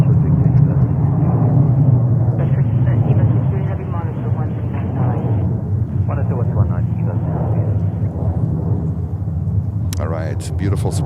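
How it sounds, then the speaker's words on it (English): Swiss Airbus A330-300 airliner arriving at New York JFK from Geneva, a loud, steady low roar of jet engines lasting throughout, with a person talking over it. "there's Swiss 330-300 coming in from Geneva"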